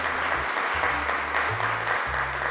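A studio audience on a children's show claps steadily to call a five-year-old girl to the microphone, a short dense round of applause with an underlying low tonal hum.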